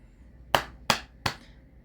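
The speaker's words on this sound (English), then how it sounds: "you put piece of money and you do 2 bow and 3 claps" Three sharp hand claps at a Japanese shrine ritual, evenly spaced and close, ringing out alone against quiet.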